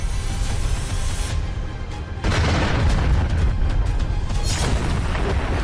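Bombs explode on Ukrainian positions in eastern Ukraine, a deep rumbling boom that swells suddenly after a quieter stretch and rolls on loudly, with crackling debris-like noise layered over the low roar.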